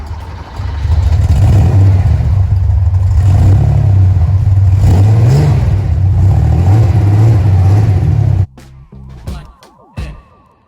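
An air-cooled 1979 Porsche 911 SC 3.0 engine runs loud and close with a steady, throaty drone and slight rises in pitch, then cuts off abruptly and leaves faint clicks and ticks.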